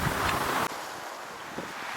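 Strong north wind buffets the microphone over steady surf on a beach in the Shonan area of Kanagawa, a loud continuous roar of rushing air and breaking waves with a sudden gust cut-off partway through.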